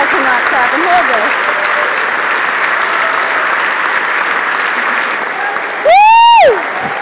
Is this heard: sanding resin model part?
no